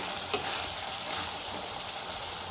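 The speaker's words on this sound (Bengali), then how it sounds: "দেখো সবজিগুলো আমার একটু নেড়ে দেবো" Vegetables fry in a pan, a steady close sizzle with a brief clink of a spoon as they are stirred.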